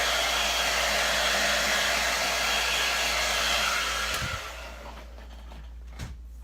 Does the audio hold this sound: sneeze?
no